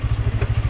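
A naked motorcycle's engine runs with a rapid, even train of low, throbbing exhaust pulses. The sound is close and loud but lasts less than a second, with no voices.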